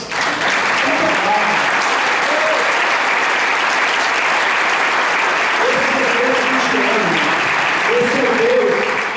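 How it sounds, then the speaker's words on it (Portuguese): Warm applause from a Baptist church congregation, a steady wash of clapping lasting throughout, with voices calling out faintly within it. "uma salva de palmas"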